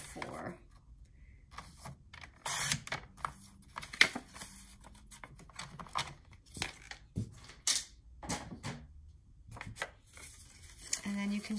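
Scrap paper being cut down to size gives sharp, close snips and crisp paper rustles in irregular bursts, with quiet gaps between cuts.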